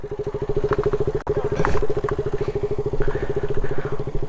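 A motorcycle engine idles close by with a fast, even thumping pulse, briefly interrupted once, plus some light clatter over the top.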